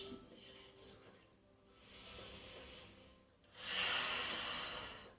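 Slow, deliberate breaths taken during a Pilates upper-body exercise: soft, airy exhalations drawn out over a second or more, with a longer and louder blow near the end, all faint and close.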